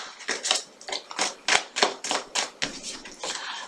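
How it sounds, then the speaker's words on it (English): Tarot cards shuffled by hand, about a dozen quick riffling bursts in a steady rhythm, close and crisp with no talk. "I'll give it one more shuffle."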